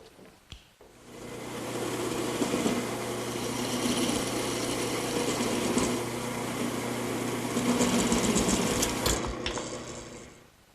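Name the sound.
cutting turned wooden finial loose on lathe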